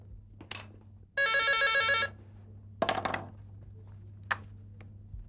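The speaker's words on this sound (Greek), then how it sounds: "Τηλέφωνο!" An old telephone bell rings in one sustained burst of about a second, set among a few sharp knocks and clatters against a low steady hum in an indoor scene.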